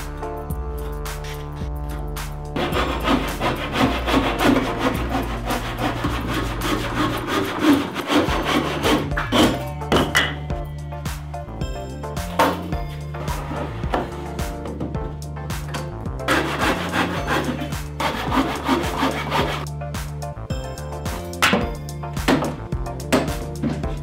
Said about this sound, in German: Die werde ich jetzt in 1 Meter lange Stücke schneiden.